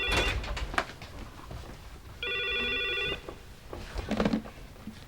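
Telephone ringing indoors in a 1988 Korean TV drama, one sharp electronic ring burst of about a second between softer household clatter and rustling, moderately close.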